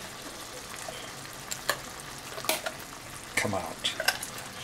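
Black beans frying and being stirred in a hot pan with thyme and chilli, a steady low sizzle broken by a few sharp scrapes and clacks of the spoon, close by, with a brief spoken word over it.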